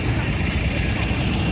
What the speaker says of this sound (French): Hey, c'était un gros avion quand même.